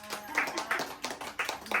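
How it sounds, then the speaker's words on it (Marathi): Scattered handclaps sound at an uneven pace, lightly spaced and fairly quiet, after a devotional song in a home kitchen gathering. "छान, टाळ्या वाजवा"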